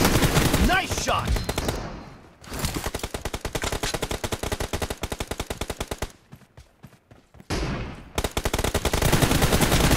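Automatic gunfire from the BGMI mobile shooter game rattles in rapid, loud bursts of closely spaced shots, separated by short pauses, with faint game voice callouts in the mix.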